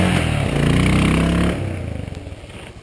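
A motorcycle engine revs up loudly during parking-lot riding practice, holding a steady roar for about a second before easing off to a lower, uneven idle-like rumble.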